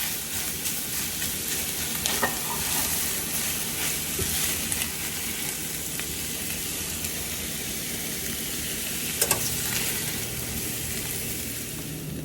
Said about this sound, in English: Once your eggs are done to where you like them, go ahead and remove them from the skillet.